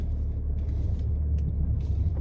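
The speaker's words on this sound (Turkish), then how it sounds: "Araba geliyor onu da bekleyeyim." A car approaches along a village road with a low, steady engine rumble and tyre roar that grows slightly louder, brief higher hissy bursts riding over it, no talk.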